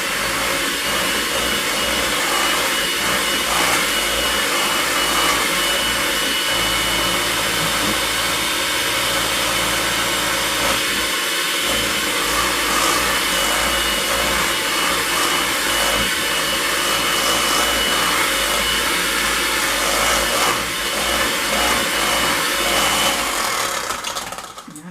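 Electric mixer beating strawberry cream cheese icing in a home kitchen, a loud continuous motor whir with slight shifts in pitch as the beaters work, close to the microphone.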